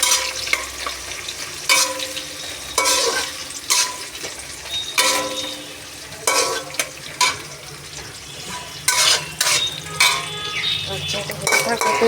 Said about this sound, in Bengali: তারপরে দেবো আমি পেঁয়াজ কুচি। পেঁয়াজটাকে নাড়িয়ে দেবো।